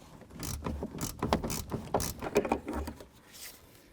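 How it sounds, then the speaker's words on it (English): Ratchet loosening the upper strut mounting nuts on a 1998-2002 Honda Accord, a quick run of close, sharp clicking strokes in uneven bursts, fairly quiet. "Now let's start removing our upper nuts."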